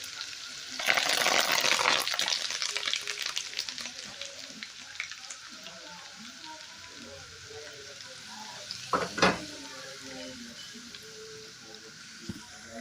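Hot oil poured over a prepared spice mix for mango pickle bursts into a loud sizzle and then settles into a softer crackle, with a second sharp flare of sizzling partway through.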